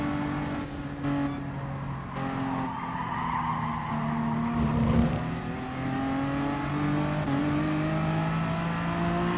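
A race car in the video game GT Sport zigzags to warm its tires, its engine droning steadily with repeated tire squeals and skids over roughly nine seconds.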